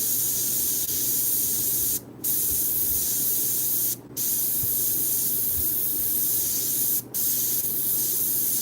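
Steady, loud hiss of an aerosol spray can laying green paint onto a painted rose, running continuously with three brief pauses where the nozzle is released.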